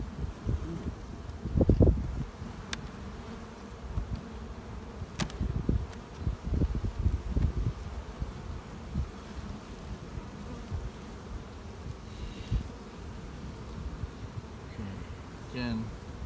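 Honey bees hum around an open beehive during a beginners' beekeeping class, a faint steady buzz outdoors with occasional rustling, handling knocks and wind noise.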